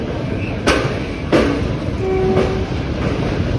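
The Manwar Sangam Express running on rails near Sultanpur over the Sai river: a steady loud rumble with a few sharp wheel clacks and a brief tonal horn-like note, heard close with no talking.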